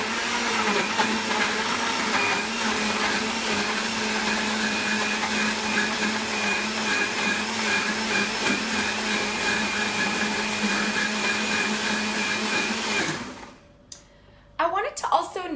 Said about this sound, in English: I'm just using a regular Kenwood blender from any supermarket, grocery store